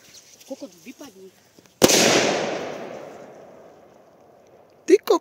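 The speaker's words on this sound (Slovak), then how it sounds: "Takže petarda minibomb." An F4 minibomb firecracker goes off with a single sharp, loud bang, then a long decaying rumble and echo; scattered speech comes before it and briefly near the end.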